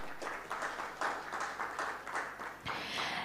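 Audience applause at a spectrum management telecommunications conference, a moderate, steady patter of clapping hands continuing for a few seconds in a hall, fairly faint and distant.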